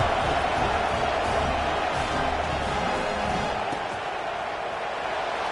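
A stadium crowd in an NCAA college football video game, a dense steady roar of many voices with faint cheers, loud and continuous throughout.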